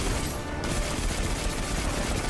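Gunfire in Destiny 2 sounds as a dense, continuous rattle of shots, loud and close, packed tightly together without clear gaps across the short stretch.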